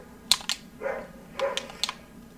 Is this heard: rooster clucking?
no